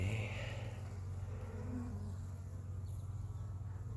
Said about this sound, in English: I can't really grab it from that angle there because of where the bees are.